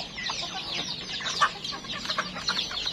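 Chickens and chicks cluck steadily on a farm with barn-type pens and cages, a busy overlapping chorus of clucks and peeps at moderate distance with no talking.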